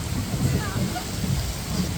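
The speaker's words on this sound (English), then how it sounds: "It's raining!" Heavy rain pours steadily at an outdoor crochet craft market during a thunderstorm, a dense continuous hiss with low rumbling underneath.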